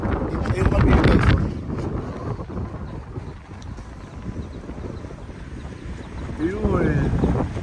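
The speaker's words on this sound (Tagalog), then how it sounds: "Lakas talaga ng hangin dito." Strong cold wind gusts buffet the microphone outdoors in Malico, San Nicolas, Pangasinan, with loud rumbling bursts rising and falling, and people speak briefly near the end.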